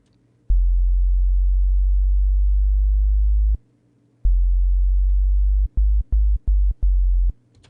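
Pure low sub-bass tones from a Serum synthesizer with the filter off, two long sustained notes followed by a quick run of short staccato hits, clean and steady with nothing else sounding.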